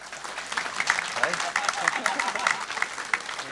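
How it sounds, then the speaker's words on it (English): Audience applause at a football club's end-of-season awards evening, a warm round of clapping from a seated crowd in a hall, continuous throughout with a voice speaking over it. "He got a bigger round of applause than you actually did, Andy."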